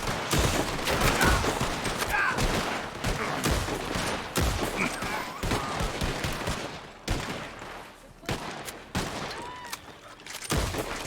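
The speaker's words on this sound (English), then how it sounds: "Deputies open fire!" Deputies fire a sustained barrage of gunshots in a Red Dead roleplay game, dense overlapping bangs with scattered single shots, loud and close, with brief shouting mixed in.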